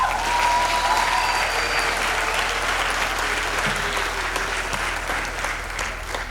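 An audience at a university graduation ceremony at VUT's main campus applauds warmly, a dense, sustained round of clapping in a large hall that gradually tapers off toward the end.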